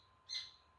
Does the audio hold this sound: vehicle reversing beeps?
no